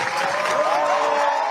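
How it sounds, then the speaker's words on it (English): Crowd of more than 200 supporters applauding and cheering as a senator arrives home, a dense, steady wash of clapping and voices throughout, fairly loud and continuous with no individual speech standing out. "More than 200 supporters waiting and cheering as the senator arrives home"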